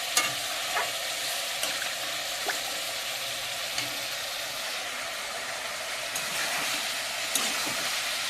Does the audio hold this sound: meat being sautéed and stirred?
yes